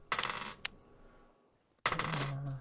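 Dice tumble and rattle across a table during a tabletop role-playing session, two distinct bursts of clattering separated by a quiet pause, close and crisp.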